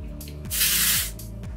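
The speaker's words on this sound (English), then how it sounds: "So I'm just gonna kind of like lift up and spray in my roots." Oribe Gold Lust dry shampoo sprayed into the hair roots gives one close, steady aerosol hiss lasting about half a second, with a faint background hum.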